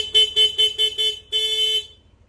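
The stock horn of a Yamaha NMAX V2 scooter gives five short, sharp beeps close up, followed by one longer held honk, all in a single steady tone.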